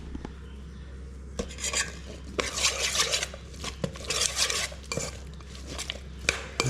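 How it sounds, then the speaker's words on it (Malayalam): Octolic mushroom salad dressed with honey is mixed in a bowl, giving repeated close scraping and clinking of a utensil against the dish in uneven bursts, with no talk. "നമുക്കിതിലേക്ക് കുറച്ച് ഹണി ഒഴിച്ചു കൊടുക്കാം. എന്നിട്ട് ഇതൊന്ന് മിക്സ് ചെയ്ത് കൊടുക്കാമേ."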